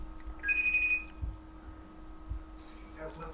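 A mobile phone rings briefly with a bright electronic tone, fairly close, followed by quieter room noise and people talking.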